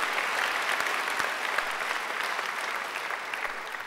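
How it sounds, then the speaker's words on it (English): An audience at a graduation ceremony applauds steadily for about four seconds, a dense, even patter of many hands clapping across the hall, fairly soft and slowly fading toward the end. "I think she deserves another great round of applause"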